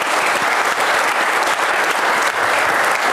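A studio audience claps loudly and steadily, a thick continuous roar of many hands close by, with no talking over it.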